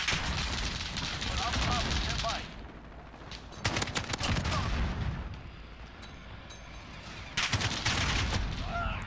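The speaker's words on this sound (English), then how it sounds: "I was shooting a wall, I guess?" Bursts of gunfire in the video game Call of Duty Modern Warfare, with heavy rapid shots in several dense volleys broken by brief quieter gaps, loud and close.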